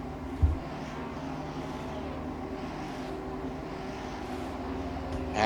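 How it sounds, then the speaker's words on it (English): Race car engines idle and rev together on the starting grid at Imola in the Classic Lotus Grand Prix video game, a steady layered drone with one brief thump near the start and a slight rise at the end. "They're revving them up, getting them ready."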